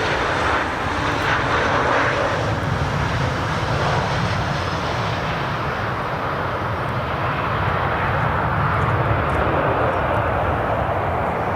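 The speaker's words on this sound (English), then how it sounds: "Aircraft." Steady, loud roar of a fixed-wing aircraft engine at Dublin Airport, a broad continuous rumble holding level throughout with no voices.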